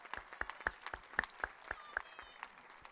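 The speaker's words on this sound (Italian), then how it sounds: "un applauso grandissimo" Sparse, quiet applause from a small audience at a gathering in Palau, a handful of distinct claps in an uneven rhythm, heard at a distance.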